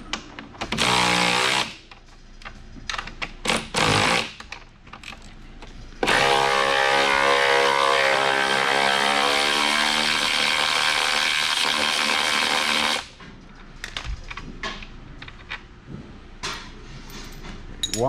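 A power tool with a 15 millimeter socket backing a bolt out of a ski binding, short buzzing bursts, then a long continuous whir of about seven seconds, followed by clicks and handling noises.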